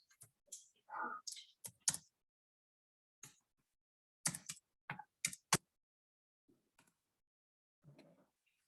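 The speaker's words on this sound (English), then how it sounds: "And I may just try and type that in." Keys tapped on a computer keyboard in short irregular bursts of light clicks with gaps between, close and fairly quiet, a voice briefly heard.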